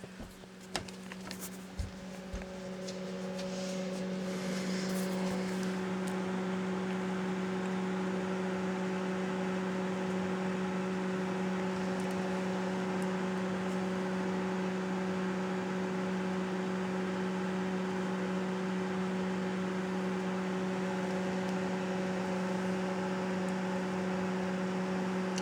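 A microwave oven runs while heating oatmeal, giving a steady, close hum with a low electrical drone that holds evenly for over twenty seconds after a few faint clicks and rustles at the start.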